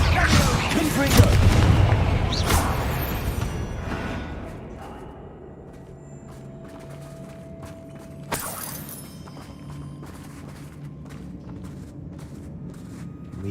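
A Confringo fire spell explodes in Hogwarts Legacy as a loud, booming blast near the start, rumbling and slowly fading into a low ambient hum, with a sharper crack later and faint footsteps and a voice in the background.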